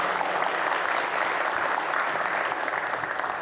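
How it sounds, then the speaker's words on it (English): Audience applause welcoming an interview guest from Dogecoin at a crypto event, a continuous, even crowd clapping sustained at moderate loudness without pauses. "Please give him a round of applause for coming."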